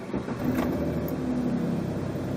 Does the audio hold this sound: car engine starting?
yes